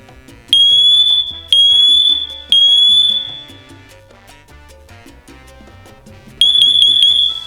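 A Siterwell smoke detector emits piercing high alarm beeps, three in steady succession and then another after a pause, loud and close over a faint musical background.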